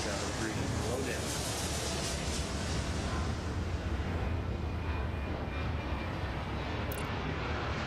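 A jet airliner in the Airport Madness video game roars steadily as it takes off, a broad, sustained engine rush that holds throughout under occasional talk.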